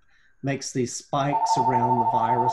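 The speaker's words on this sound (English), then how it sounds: "Sorry about the phone ringing." A telephone rings during an online health webinar, a steady tonal ring running under a man's lecture-style speech.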